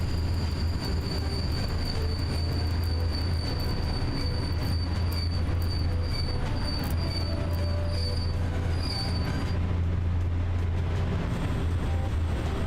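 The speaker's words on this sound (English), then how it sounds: "And now we should be ready to stop. Come on, come on. Stop this train." A train in the SimRail railway simulator brakes to a stop, its wheels squealing steadily and loudly over a continuous low rumble of the rolling cars for the whole stretch.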